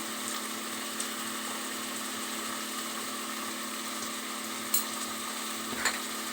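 Jackfruit being stirred in a pan with turmeric and Kashmiri chilli, a steady sizzle with scraping strokes running throughout and a couple of sharper clinks near the end, close and fairly quiet.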